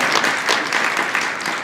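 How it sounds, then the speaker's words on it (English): An audience at a Def Jew Poetry Slam event claps for the rabbi and synagogue staff, producing a loud, dense wash of applause that holds steady with slight swells throughout. "I want you to give a big round of applause for Rabbi Morley Feinstein and the staff of the University Synagogue"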